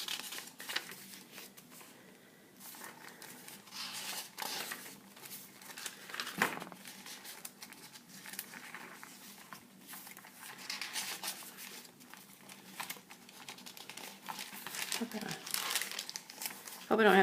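Paper junk journal pages are peeled apart and crinkled in close, repeated crackles and rustles. A person talks over them throughout.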